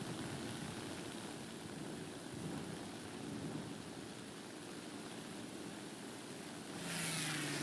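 Propeller engine of a World War II era plane in a flight combat video game, a continuous droning roar holding steady, then swelling louder near the end.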